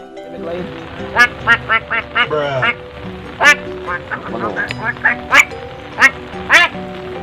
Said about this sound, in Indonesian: Biasa mun bebek mah dipencetkeun sesada